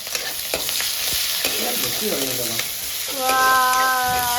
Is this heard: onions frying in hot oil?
yes